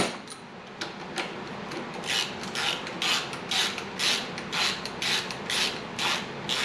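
Ratchet wrench working a master cylinder mount bolt loose on a 1966 Harley-Davidson FL Shovelhead, a steady run of rhythmic rasping clicks repeating close by, with no talking.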